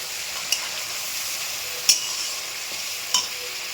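A spice paste of ground cumin, ginger, green chilli and dried red chilli frying in a pan gives a steady soft sizzle, with three brief sharp scraping stirs.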